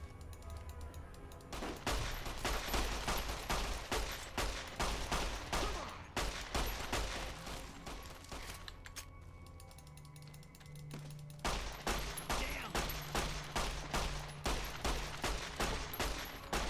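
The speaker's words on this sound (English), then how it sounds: "I am repeatedly shooting this guy and he's just not dying." Rapid sustained gunfire from a weapon in Fallout: New Vegas, dense rattling bursts that run almost continuously with a couple of brief pauses, loud and without talk.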